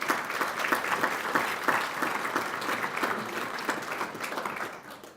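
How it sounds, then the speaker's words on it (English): Chamber of commerce members applaud themselves during an annual state-of-the-chamber address, a sustained crowd applause with distinct individual claps in a steady rhythm, slowly thinning toward the end. "I really would love for you to give yourselves a round of applause"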